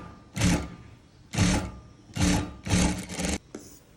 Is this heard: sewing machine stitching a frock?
yes